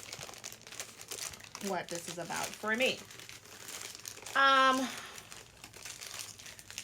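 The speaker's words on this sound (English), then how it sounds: "let me go ahead and unbox for you what I got from Amazon" A person speaks while packaging crinkles and rustles in short bursts between and under the words, close by.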